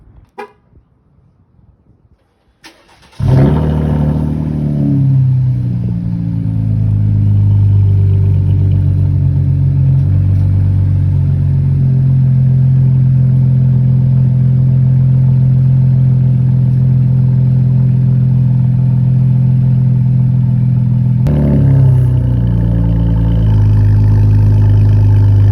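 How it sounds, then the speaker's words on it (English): A Chevrolet Camaro with a muffler delete cold-starts after a few seconds of quiet, catching with a loud bark and settling into a steady, loud, deep idle that swells again near the end. "I'm gonna give y'all a cold start on this Camaro right here."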